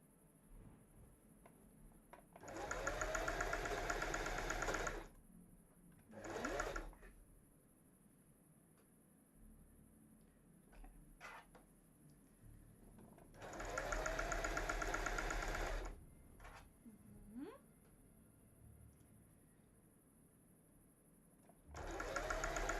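A sewing machine stitching fabric for a cosplay costume in a workshop runs in loud bursts of a few seconds each, with quieter handling noises between runs and no voice.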